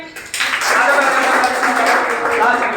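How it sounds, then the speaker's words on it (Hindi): Students clapping together in a reasoning class, a sudden burst of group applause that starts sharply and stays steady, with voices mixed in. "बजाओ भी ताली"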